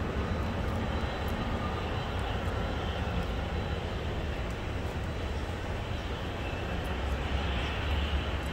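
An airliner roars steadily on takeoff from runway 24 right at LAX, a broad continuous engine rumble heard from a distance with no break throughout.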